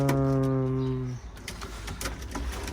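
A pigeon in a coop on a windy morning gives a sustained low, tonal coo that fades after about a second, followed by scattered rustles and clicks.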